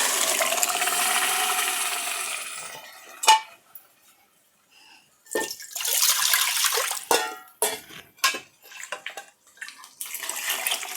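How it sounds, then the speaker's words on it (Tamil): Mashed cooked dal poured into a pan of sautéed onion and tomato for sambar, a steady wet pouring splash for about three seconds, then scattered clinks and scrapes of a spoon against the pan. "நான் பருப்பை சேர்த்துக்கிறேன்."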